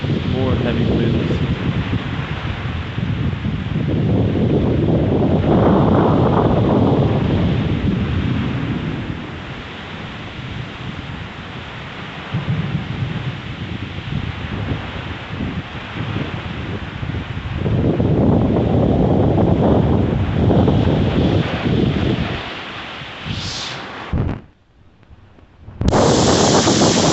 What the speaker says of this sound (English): More heavy winds.